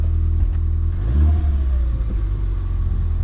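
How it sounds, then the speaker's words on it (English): Ford Fiesta ST180 with a Miltek exhaust, resonated version, idling with a steady low rumble, then a single short rev that swells and falls back around the middle before it settles into idle again. "Give it a little rev, Dave."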